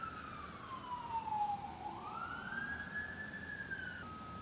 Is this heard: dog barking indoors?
no